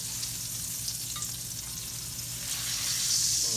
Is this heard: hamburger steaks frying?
yes